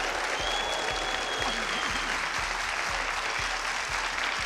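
A studio audience breaks into sustained, dense applause that fills the whole stretch evenly, loud and close, with no talk over it.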